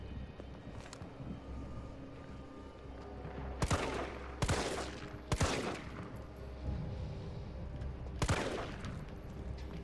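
Gunfire in the Resident Evil 3 video game, four or five sharp separate shots spaced a second or two apart over a low rumbling background, each with a short decaying tail.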